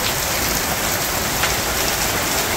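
Heavy rain pours down steadily on a Bangladeshi village home, a dense, continuous hiss of drops drumming on surfaces at close range, unbroken and with no voices.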